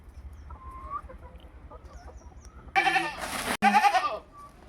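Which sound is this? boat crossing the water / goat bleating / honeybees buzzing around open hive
goat bleating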